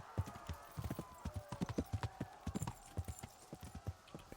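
Horse hooves clip-clop steadily in a medieval video game, a brisk run of close, even hoofbeats with a faint whinny and no talk over them.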